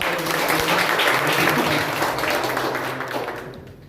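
A church congregation claps loudly together after a hallelujah and amen, a full dense roar of hands in a reverberant hall with faint voices mixed in, fading out toward the end.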